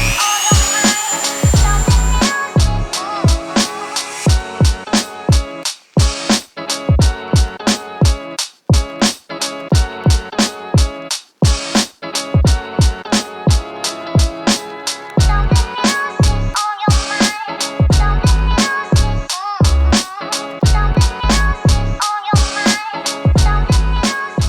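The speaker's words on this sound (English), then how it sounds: "I'm just going to take the Dremel to it" A handheld Dremel rotary tool cuts into fiberglass with a high whine broken into many short, rhythmic bursts as the bit bites and lifts, loud and close, with no talking.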